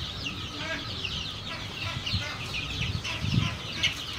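Duck and chicken chicks chirp in a busy chorus of high peeps from many birds, with occasional deeper clucks and faint voices mixed in, continuous and fairly close.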